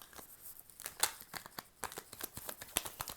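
Tarot cards are shuffled quietly, with soft rapid riffles and crisp flicking taps in an irregular rhythm, close and faint.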